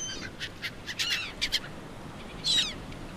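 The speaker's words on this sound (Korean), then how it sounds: "여긴 갈매기인 것 같은데" Seagulls cry in the survival video game Stranded Deep, several short sharp calls spaced across the moment with a louder call near the end, over a quiet background.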